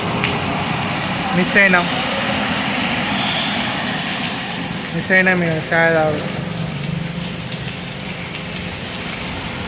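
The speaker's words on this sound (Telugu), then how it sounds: "మళ్ళీ ముందటిపోతే మళ్ళీ వర్షం పడుతుంది." Monsoon rain falls as a dense steady hiss close by, with someone talking briefly over it.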